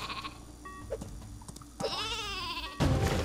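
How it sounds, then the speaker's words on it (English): Super sheep in the video game Worms W.M.D lets out several bleats, one long wavering baa rising over game sound effects and a thudding hit, ending in a loud burst. "I've never actually flown a super sheep in this game."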